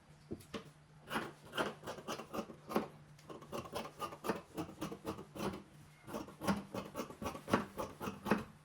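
Steady rhythmic snipping and rasping of scissors cutting a fabric shirt back piece, close and fairly quiet, continuing in regular strokes with no talk.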